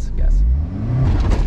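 A brief low rumbling rev from a Honda S2000's engine as a learner driving stick gives too much gas, heard close under a voice speaking.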